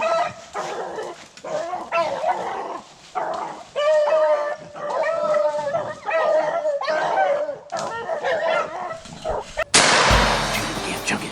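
Beagles bay and yelp in repeated bursts while running a rabbit in the field, several dogs close by, ending with a sharp gunshot.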